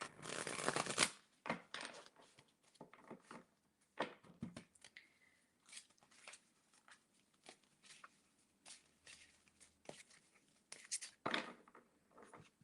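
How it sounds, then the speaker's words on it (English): Tarot cards shuffled by hand in soft, quick bursts of riffling and sliding, close and fairly quiet, with brief pauses between passes and no talking. "I'm gonna shuffle my cards here."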